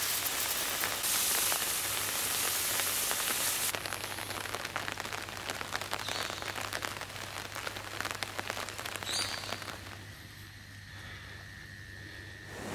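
Steady rain falls on a garden of freshly transplanted corn seedlings, a dense continuous patter that stays even throughout, with no voices.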